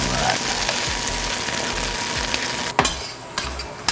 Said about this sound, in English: Nice and browned on there from the brown butter.